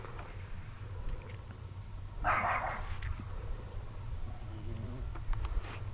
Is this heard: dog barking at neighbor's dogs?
yes